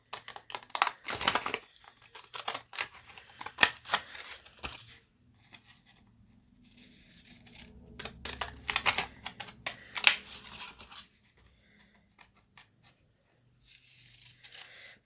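Scissors trimming paper around a box line on a handmade hanging double tag, a few close, crisp snips and slicing cuts in short clusters separated by quiet pauses, with no talking.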